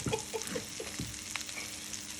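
Red onion and Brussels sprouts fry in olive oil and butter, giving a steady close sizzle. A few louder scrapes or stirs come in the first second, and no one speaks.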